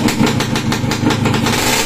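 A Suzuki X4 motorcycle with a reworked rotary valve runs close and loud, its rough, revving engine note pulsing steadily with no pause.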